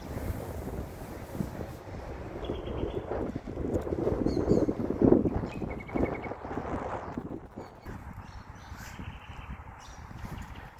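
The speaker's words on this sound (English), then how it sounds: "It was quite a windy day" Steady wind buffeting the microphone with a low rumble throughout outdoors at a shipping container shelter build, plus a few faint tonal sounds in the background.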